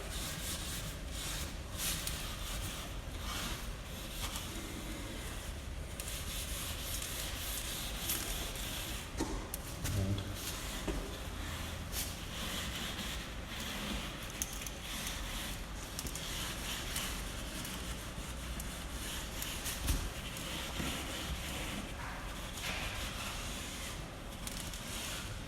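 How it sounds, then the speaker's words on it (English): Steel wool scrubs shellac stripper off timber wall paneling along the grain, a faint, continuous rough rubbing and scratching that runs steadily throughout. "give it a scrub with the correct scrubbing material, which in this case is going to be steel wool. Always in the direction of the grain."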